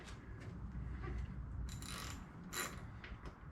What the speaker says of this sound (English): But I will use my ratchet to go around and snug them up.